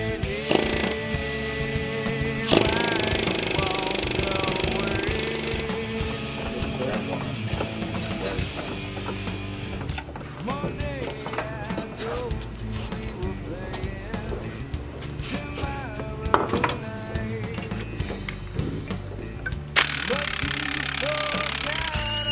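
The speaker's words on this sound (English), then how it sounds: "students are using an air chisel to dig grooves in it and bump it around" An air chisel hammers at an inner tie rod on a Dodge axle, cutting grooves into it; loud rapid pneumatic chattering comes in bursts, with metallic knocking and clanks in between.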